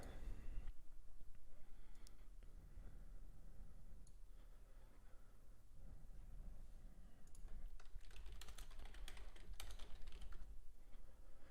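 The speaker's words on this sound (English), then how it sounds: "If you do hear typing, that's just me making alerts" Fast, steady typing on a computer keyboard, with keys clicking in quick bursts against a low background hum.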